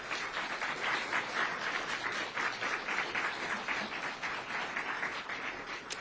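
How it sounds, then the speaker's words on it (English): Sustained audience applause after remarks by US senators at a political event about working-class issues, dense and steady clapping from a crowd throughout, with no speech over it. "we owe those folks an even bigger round of applause."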